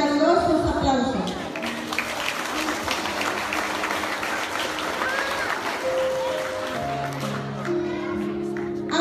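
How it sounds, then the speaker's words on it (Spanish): An audience applauds at a primary school graduation ceremony, a steady wash of clapping lasting throughout under sustained tonal music and some speech-like voices. "Y pido al público que les brindemos para ellos fuertes, pero fuertes y calurosos aplausos."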